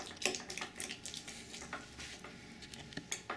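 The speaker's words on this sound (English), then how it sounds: "And then we're going to chop this up and mix it up." Chopped avocado sauce being mixed in a bowl, faint irregular wet stirring and scraping with soft clinks of a utensil.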